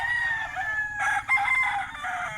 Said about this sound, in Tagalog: Yung kay classmate Elson Gali, dalawang battle stag din yon